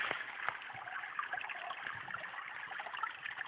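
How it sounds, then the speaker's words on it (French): A small stream trickling toward a lake on dry land, a faint, steady babble of water with light splashes running continuously and heard alone. "Ça, c'est le magnifique petit ruisseau qui coule jusqu'au lac."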